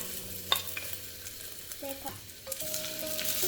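Ginger and garlic sizzle and fry in a pan while being stirred, a steady soft crackle with occasional scrapes and clinks of a utensil throughout.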